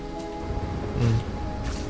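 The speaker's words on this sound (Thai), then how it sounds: "ตอนนี้ฝนก็ตกหนักมากนะทุกคน" Heavy rain falling in the video game Ori and the Will of the Wisps, a steady, dense hiss of downpour that continues unbroken and swells slightly near the middle.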